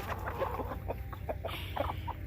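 Chickens, hens and a rooster clucking together at feeding time, short close clucks and murmurs in quick succession on a farm.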